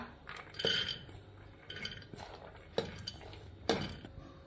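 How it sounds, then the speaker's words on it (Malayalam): Hard wheat grains clatter and rattle into a metal pressure cooker in a few quick pours, with clinks of a utensil against the rim and soft kitchen background noise. "ഇതിന് വേവിച്ചെടുക്കാൻ വേണ്ടി അടുപ്പത്ത് ഒരു കുക്കറിലേക്ക് ഇടാം"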